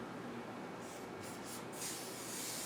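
Short hissing bursts of an aerosol spray, three quick puffs followed by a longer spray, fairly faint against a steady noisy background.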